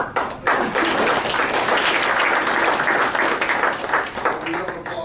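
A luncheon audience gives student athletes a round of applause, a full burst of many hands clapping that rises quickly, holds steady and tapers slightly, with some voices mixed in.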